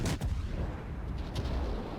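Naval gunfire in World of Warships, with a US Navy light cruiser firing: booming shots and a dense low rumble of battle, a sharp report near the start and another about a second later.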